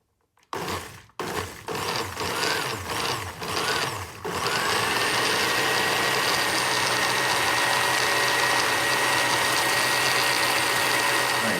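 A kitchen blender whirs steadily, mixing honey, hard-boiled egg and apple juice into sugar glider food. A few seconds of choppy starts and clatter come first, then a loud, even motor drone runs to the end.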